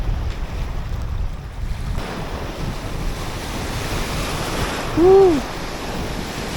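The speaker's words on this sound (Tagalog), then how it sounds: "Malalakas din yung alon." Strong ocean waves wash against the shore in a steady roar while wind buffets the microphone; a man lets out a short cheer partway through.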